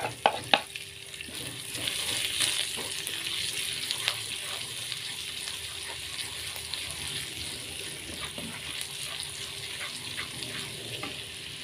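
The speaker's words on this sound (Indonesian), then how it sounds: "Selanjutnya kita tumis jahenya." Ginger sautéing in a frying pan for shrimp in oyster sauce, a steady close sizzle with occasional stirring scrapes and clicks running evenly throughout.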